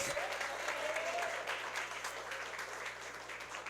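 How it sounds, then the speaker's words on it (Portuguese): A church congregation applauds during a Mother's Day service, steady and fairly loud, with a voice faintly under the clapping. "Uma salva de palmas para o Rei Jesus"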